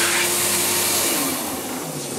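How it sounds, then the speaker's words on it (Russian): An electric dryer runs close by with a loud, steady whooshing roar of blowing air and a low motor hum, easing slightly in volume toward the end, with no voices. "О, нифига, сушилка, что ли?"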